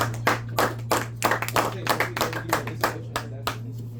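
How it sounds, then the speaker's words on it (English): A small group of students claps quickly and unevenly for several seconds, close by, in a lively burst of applause in a classroom. "shall we give some a round of applause?"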